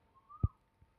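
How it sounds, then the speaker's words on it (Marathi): A single faint, distant whistled call of an Asian koel rises briefly through quiet countryside in Maval near Pune, followed by a soft low thump. "बघा कोकिळेचा आवाज ऐकला"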